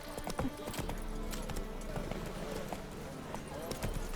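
Roach the horse gallops in The Witcher 3 game, a steady rapid clip-clop of hooves throughout, fairly close, with a brief voice and a faint whinny over the rhythm.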